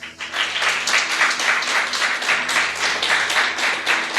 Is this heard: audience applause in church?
yes